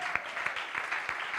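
A church congregation applauds and cheers, a faint, distant hiss of many hands with a few sharper claps poking through.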